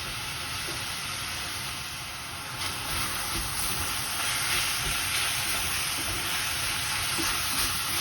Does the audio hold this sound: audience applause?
no